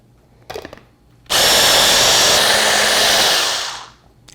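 A lidded blender whirs loudly for about two and a half seconds, blending a cilantro lime dressing of lime juice, salt and pepper, after a brief clunk, then winds down.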